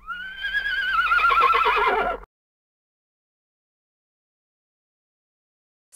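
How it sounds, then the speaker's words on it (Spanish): A horse gives one loud, clear neigh with a wavering, descending whinny that lasts about two seconds, then stops abruptly into silence. "Caballo."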